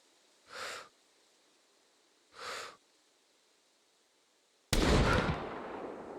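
A long-range rifle shot fired in the survival video game SCUM: after two soft breaths, a single sudden, very loud cannon-like blast erupts and rolls on as a heavy, sustained echo.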